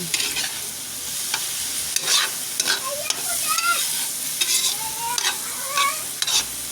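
Corned beef and egg frying together in a pan, a steady close sizzle broken by clinks and scrapes of stirring, with no voices.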